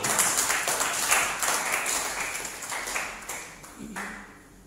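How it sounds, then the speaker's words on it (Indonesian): A church congregation claps for God during a worship service, a steady wash of applause that rises briefly and then thins out, with a few sharp ringing accents. "Mana tepuk tanganmu untuk Tuhan?"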